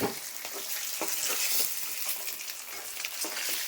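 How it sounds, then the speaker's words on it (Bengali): Pieces of catla fish fry lightly in hot oil, giving a steady hissing sizzle with occasional sharper crackles and spatters close by. "এই যে মাছটা ভেজে নিচ্ছি একটু হালকা করে"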